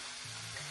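Food fries in an electric pot with a steady, dense sizzle and crackle that stays close and loud for the whole moment, with no voices.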